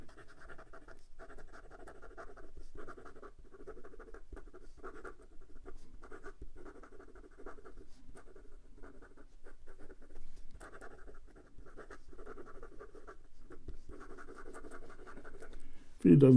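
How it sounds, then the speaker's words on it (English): A Moonman MaJohn A1 capless fountain pen writes quickly on paper, making soft, steady scratching strokes in short bursts with brief pauses, close up, while someone talks quietly over it. "And for some quick writing."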